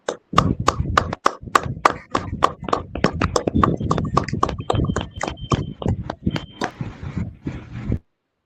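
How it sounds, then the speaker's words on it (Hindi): A prayer service congregation claps hands in thanks to God, a steady run of sharp, fairly even claps for about eight seconds before stopping abruptly. "आइए ताली के साथ परमेश्वर को धन्यवाद देते हैं।"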